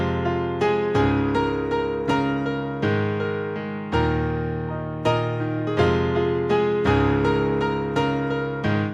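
Piano playing the chorus of a song, with full sustained chords struck about once a second in a steady rhythm, loud and close with no talking.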